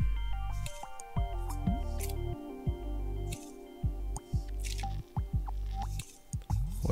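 Liquid silicone pours into a mould, producing a close series of wet squishing glugs and irregular drips, some soft and some sharper, with no talk.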